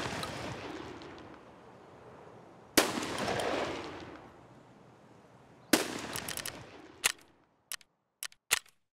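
Shotgun fire in Escape from Tarkov: a few loud, sharp blasts with long reverberant tails, followed by a rapid string of short, crisp cracks near the end, with no talking.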